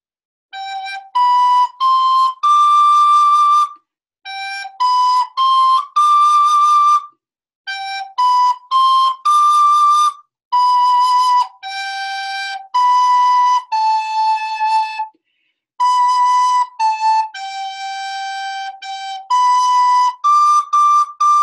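A solo recorder plays the Recorder Karate blue belt song, clear bright notes in short phrases separated by brief rests, loud and close with nothing else heard.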